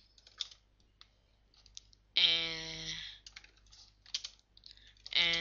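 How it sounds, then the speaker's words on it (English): Computer keyboard typing code, light scattered key clicks up close, interrupted by a couple of loud tonal electronic beeps, otherwise quiet. "Then type cout hello, my name is, now type Benjamin dot name."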